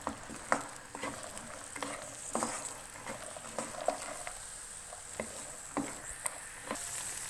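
Peas frying in a pan for matar pulao, a soft steady sizzle broken by repeated scraping and clicking stirs, close and fairly quiet, heard alone.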